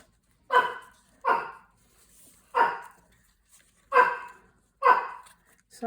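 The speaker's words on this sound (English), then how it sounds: "Sorry about my dog there." A dog barks five times in short, evenly spaced bursts, fairly close and loud, with quiet room tone between barks and no talking.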